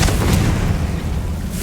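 Confringo fire spell explosion in Hogwarts Legacy, a loud, close, booming blast with a deep rumble that sustains through the whole moment.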